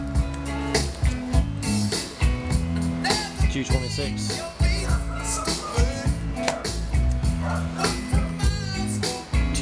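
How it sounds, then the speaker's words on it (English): A pet dog barks repeatedly in the background of a room, short yips and bow-wows scattered under a person talking and busy background sound. "Hear my dog in the background, she won't shut up."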